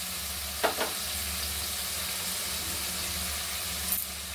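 Ground spices with turmeric and salt frying in a pan for a hilsa and potato curry: a constant close sizzle and crackle, with a couple of sharp stirring scrapes near the start and another near the end.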